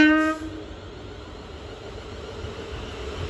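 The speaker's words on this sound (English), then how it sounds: "Departing now is the 12:15 London North Western Railway service to London Euston." A London Northwestern Railway electric passenger train departing Watford Junction ends a loud horn blast, then rolls away in a steady low rumble.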